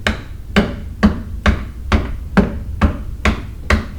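A hammer strikes the rear axle of a 2002 Toyota RAV4 to drive it out during a wheel bearing job. There are nine loud, close metallic blows at an even pace, about two per second, with no speech.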